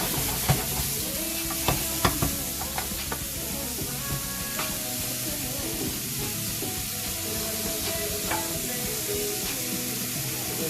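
Chopped vegetables sweating in a pan for a saffron pumpkin and leek risotto, a continuous close sizzle with repeated scraping and clicking from a spoon stirring, fairly loud and without talk.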